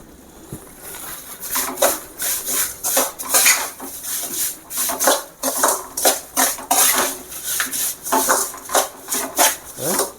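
A spoon scrapes and clinks around a pot while colour powder is stirred into rava kesari, loud rhythmic metallic strokes repeating steadily and close, with no talking.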